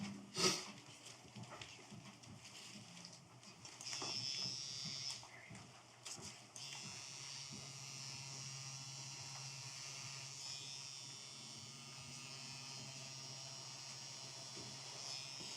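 A tattoo machine buzzes steadily during a tattooing session, a continuous close electric drone holding throughout with a few brief knocks and handling sounds early on.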